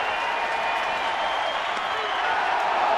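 Sellout crowd at AT&T Park during a baseball game, waiting on a pitch: a loud, steady wash of crowd noise with scattered clapping and cheering, sustained throughout without letup.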